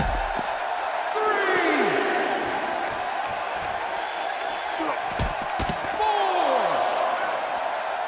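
A wrestling arena crowd in WWE 2K18 cheers steadily, with rising and falling whoops breaking out above a constant roar and sharp slams cutting through.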